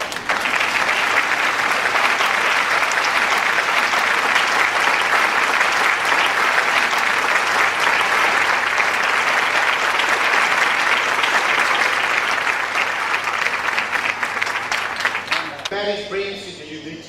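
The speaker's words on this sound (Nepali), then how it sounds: "हामी ताली बजाएर" Wedding guests applaud together in a sustained, dense burst of clapping lasting over fifteen seconds before it tapers off and a voice begins.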